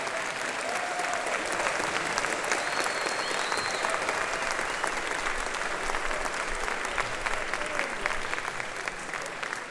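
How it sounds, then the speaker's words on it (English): Sustained applause from an audience closing a pop mixing masterclass with Tony Maserati, steady and dense clapping that fills the room for the whole stretch, with no voices on top. "if you can give us one more round of applause"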